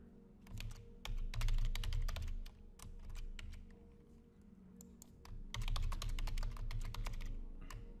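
A computer keyboard clatters in quick, close bursts of keystrokes, with pauses between runs, during a password reset.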